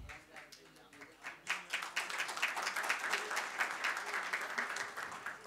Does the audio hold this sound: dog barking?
no